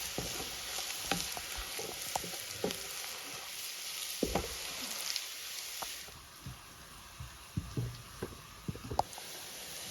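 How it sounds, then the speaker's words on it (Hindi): Chopped onions sizzle and fry steadily in a pan on an induction cooker while being browned for a Kashmiri harissa, with soft stirring scrapes and small pops breaking through the continuous hiss. "अभी ये जो प्याज है हमने अच्छे से फ्राई कर लिया है"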